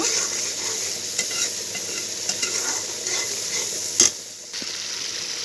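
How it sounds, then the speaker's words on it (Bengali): Spices with dry chili powder and ground coriander being stirred and fried in oil in a pan, a loud close hiss with repeated scraping strokes and a sharp clack near the end. "এবার আমি সবগুলো মশলা সুন্দরভাবে নাড়াচাড়া করে মিশিয়ে কষিয়ে নেব"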